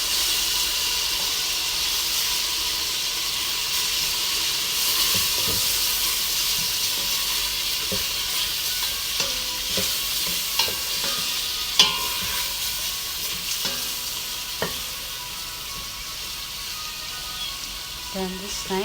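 Spices and two Maggi cubes stirred in a hot pot for vegetables with rice and lentils, under a steady sizzling hiss, with scattered spoon scrapes and clinks growing more frequent toward the end.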